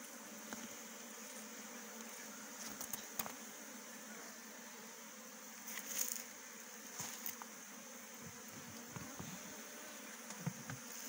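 Honeybees at an apiary during a honey harvest, a faint, continuous buzzing hum with occasional louder passes of individual bees close by, set against quiet outdoor background.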